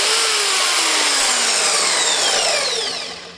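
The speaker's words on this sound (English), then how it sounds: "I got me a new portable bandsaw" New portable bandsaw cutting, a loud high whining screech with descending tones that runs for about three seconds and then tapers off, no speech.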